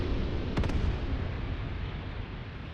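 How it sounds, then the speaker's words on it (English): Artillery rounds exploding in the war game Graviteam Tactics: Mius Front, a sharp cluster of quick blasts early on followed by a steady loud rumble of battle noise. "I would not want to be in between these artillery rounds."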